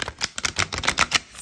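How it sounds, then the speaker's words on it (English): Oracle deck of Hay House Guardian of the Night cards, thicker than standard, shuffled by hand: a quick run of crisp papery riffling clicks, close and fairly loud, with no talk over it. "let's see how it shuffles, because that's the key here for me. I like it when I can shuffle a deck"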